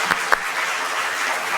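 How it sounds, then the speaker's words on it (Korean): A church congregation applauds during a Korean youth joint worship service, a brief, steady wash of clapping with a couple of sharper claps standing out at the start. "우리 청년부에도 박수 한번 하겠습니다"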